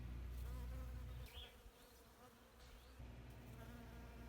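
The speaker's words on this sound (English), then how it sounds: "let's see if we can hear the bees, because if we come up closer to it, you'll be able to hear the bees" Bees swarm a flowering Cercis tree in a garden in mid-May, producing a steady, faint insect hum that continues throughout with slight swells in loudness.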